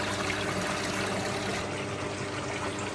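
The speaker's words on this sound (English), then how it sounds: "I was just checking this shower side is working, so as you can see, it's pooling out there all over the media." Water trickles steadily from a koi pond filter shower bar onto filter media, a continuous, close hiss and splatter with no talking.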